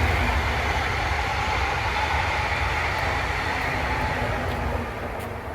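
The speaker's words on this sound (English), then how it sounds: "there comes a train swooshing through." A passing train rushes by, a steady broad rumble and swoosh that stays loud throughout and eases off slightly near the end, with no talking.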